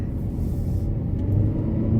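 The 1.8-litre engine of a 2019 Lexus CT 200h hybrid drones and rumbles at low pitch as the car accelerates, holding a fairly steady level as it pulls along, with no voices.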